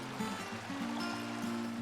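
Conewago Creek in the Susquehanna watershed runs over rocks in a steady, close rush of flowing water, with low tonal hum lines beneath the continuous babble and no voices.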